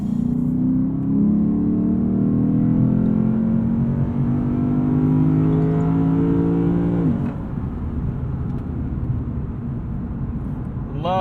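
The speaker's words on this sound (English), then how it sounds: "Love listening to that 5-liter roar" The 5-liter V8 of a 2020 Lexus RC F in Sport Plus mode on a highway rises in a steady rev with a deep, climbing drone, then drops off at a shift, heard from inside the cabin at close range.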